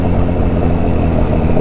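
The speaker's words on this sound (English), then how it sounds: "I feel the motor running up my legs." A turbocharged Suzuki Hayabusa motorcycle engine runs on a rough road, making a loud, continuous low rumble that stays close and steady throughout with no talking.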